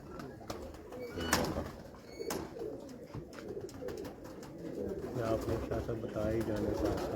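Local Pakpattan pigeons coo in soft repeated low calls, close by, with a voice speaking over them and scattered clicks and outdoor noise around.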